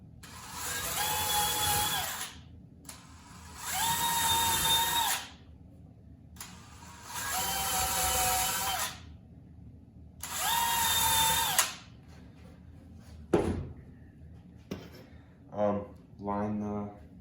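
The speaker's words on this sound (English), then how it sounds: "And then we'll make a pilot hole for the 4 holes." A power drill boring four pilot holes to mount a handle on a homemade hockey passer, in four loud whining bursts of about two seconds each separated by pauses, followed by a few short clatters and knocks.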